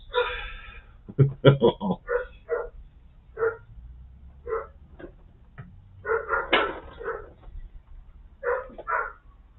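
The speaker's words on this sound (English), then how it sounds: "Oh, you can hear the dogs in the background." Dogs barking in the background at home, heard as scattered bursts of barks and yips spread across the stretch, fairly distant, with occasional gasps or voices mixed in.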